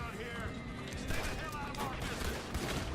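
Gunfire rattles throughout a Red Dead Redemption 2 gameplay scene on PS4 Pro, with dense, overlapping shots and crackles in a chaotic firefight. A voice talks over the shooting.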